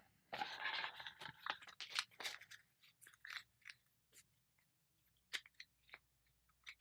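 Green infection cards from the Pandemic board game being shuffled by hand at close range, giving a series of crisp riffling and snapping bursts with short pauses between them.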